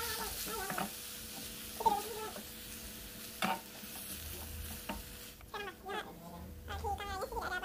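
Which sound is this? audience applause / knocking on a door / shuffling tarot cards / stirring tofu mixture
stirring tofu mixture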